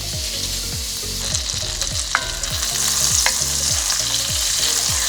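Onions frying in butter in a pan over medium heat, with a steady sizzle and repeated scraping strokes of a utensil stirring them, plus a couple of brief clinks.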